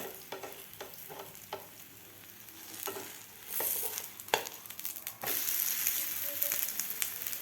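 Aloo paratha frying in a little oil on a griddle, then flipped: soft steady sizzle with scraping and tapping of a spatula, growing louder and fuller after the turn.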